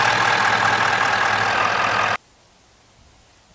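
A Ford F250 pickup with a 6.7 liter V8 idles with a steady, even hum that cuts off abruptly partway through, leaving near silence and a faint click at the end.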